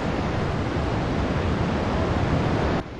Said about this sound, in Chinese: 潮水经过大缺口，击打海堤，形成约10米高的浪花。